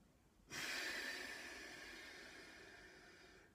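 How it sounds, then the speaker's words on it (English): A single long, breathy exhale follows a quick intake, a steady airy rush close to the mic that slowly fades over a few seconds. "Breathing in and exhale."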